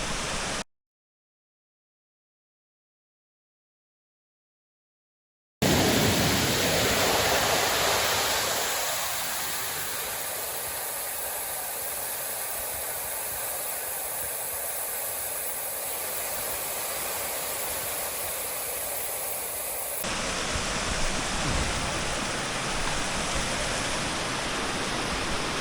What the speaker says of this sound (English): I don't know how well you can hear me because that water is loud.